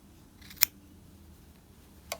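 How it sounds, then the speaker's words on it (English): Sharp sewing scissors clipping the fabric corner of a trouser waistband: two crisp, close snips, one early and one near the end, over a quiet room. "and then clip that corner there"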